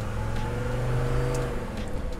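A Puch 250GD off-road vehicle drives along a dirt road, its engine droning steadily at low pitch with a slight rise in revs, heard close and continuous without speech.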